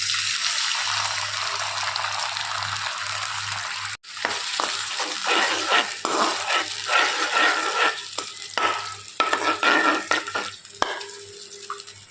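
Curd is stirred into a hot tempering in a pan with curry leaves and coriander. A steady sizzle gives way to wet scraping and stirring clatter, close and moderately loud, with no talking.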